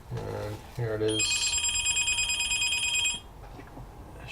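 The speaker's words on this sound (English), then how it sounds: "Should I just let the phone ring?" A telephone bell rings with a fast, bright, continuous trill for about two seconds, loud and close, after someone speaks briefly, then falls silent as low room noise remains.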